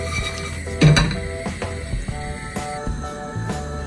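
Metal clinks and scrapes of a pan of spices being dry roasted, stirred and shaken, with irregular knocks and rattles of the dry spices, close up.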